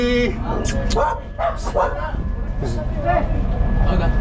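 A dog barks a few times at a distance while people talk over steady background noise.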